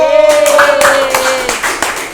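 Audience applause on a talk show stage for a guest, lively clapping over a sustained musical tone that fades, with distinct sharp claps continuing to the end.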